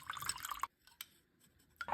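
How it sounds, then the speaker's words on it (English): Water from soaked basmati rice drains through a strainer, a short gurgling trickle with small drips and glassy splashes, fading into quiet before a final splash. "After that, strain the water."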